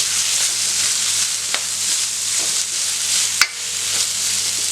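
Food with curry leaves sizzles steadily in a hot pan while being sautéed, with a couple of soft scrapes and knocks as it is stirred.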